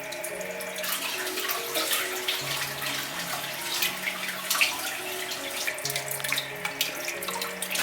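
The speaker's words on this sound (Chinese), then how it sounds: "加少许清水，一勺淀粉，一勺盐，用手搓洗一下。" Running tap water splashes steadily while pig intestine is rubbed and rinsed by hand with starch and salt in a sink, continuous close wet sloshing without speech.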